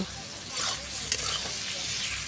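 Spices and tomato being stirred and fried in a pan for a meat curry: a soft continuous sizzle with gentle scraping movements and one brief sharp clink, close but quiet.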